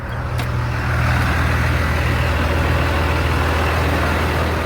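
A tractor engine pulling a cultivator runs loud and close, holding an unbroken heavy rumble throughout.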